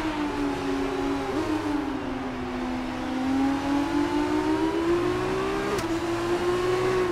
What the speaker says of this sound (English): me listening to the sound of the engine